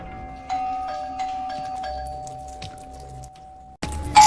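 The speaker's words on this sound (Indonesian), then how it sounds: "terdengar suara bel yang terus-terusan berbunyi" A doorbell rings over and over, ding-dong chimes repeating at a steady pace, moderately close with a quiet background, then a louder burst of noise at the end.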